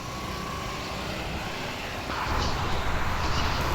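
A steady engine drone of an airplane in flight in a video game, growing louder and rougher about halfway through, with no talking.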